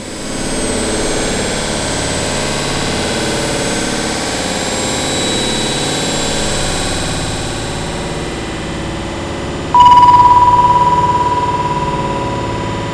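A four-engine Avro RJ85 jet engine spools up steadily in Microsoft Flight Simulator during a start at Jackson Hole, a loud continuous whine and rumble that builds before a sharp higher tone cuts in near the end.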